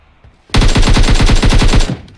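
Rapid automatic gunfire from the left in a battle royale shooter: a loud, close burst of roughly fifteen evenly spaced shots over about a second and a half, alone against quiet background.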